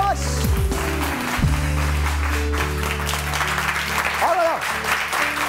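Studio audience applause rolls on steadily as a dense, continuous clatter of clapping, with bits of tonal music and a voice rising over it partway through.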